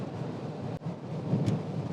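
Heavy rain drums steadily on a Rivian R1S electric SUV towing on a road trip. Deep thunder rumbles under it, with a short dip partway through and a brief hiss later. No voices are heard.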